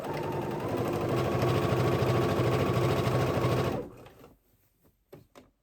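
A sewing machine runs a fast, steady stitch along the raw edge of cotton fabric for a dress, then stops abruptly, leaving a few faint handling clicks.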